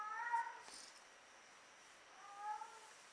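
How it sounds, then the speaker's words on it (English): A housecat meowing in distress, two drawn-out plaintive meows with a pause between, faint and slightly distant in a quiet room. "My cat's having a crisis because he can't go play with his raccoon friends outside."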